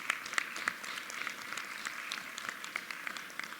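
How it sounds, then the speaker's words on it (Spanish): Crowd applause at a weekly assembly honoring a dance coordinator, a steady wash of many hands clapping with scattered sharper claps, moderately loud and continuous, no talking. "Un aplauso para él también."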